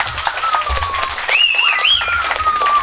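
Audience applause rises in front of the stage at a village kabaddi tournament, a dense patter of clapping mixed with a loud high musical or electronic tone sweeping over it.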